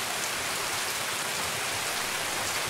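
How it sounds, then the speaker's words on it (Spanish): Heavy rain pours steadily in the Escape from Tarkov Shoreline map, a dense broadband hiss of drops on surfaces that stays even and unbroken throughout, with no voices over it. "Yo no he visto que esté lloviendo tanto, tío."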